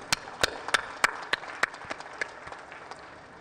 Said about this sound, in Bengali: আমরা তাদের জন্য একটা জোরে হাততালি দিই।